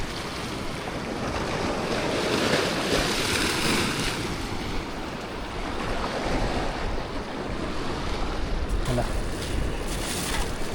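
A rising tide at a seaside fishing spot brings a steady, close wash of surf and moving water that swells and eases, with wind rumbling over the microphone.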